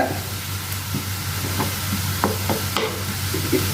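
Prawns, onion and tomato sauté in a pan with a steady close sizzle, while a spoon scrapes and stirs through them in scattered soft knocks.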